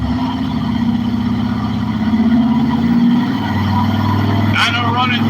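A race car engine held on a dyno at 36 degrees of timing drones loud and steady at a constant pitch, with a brief harsh burst near the end.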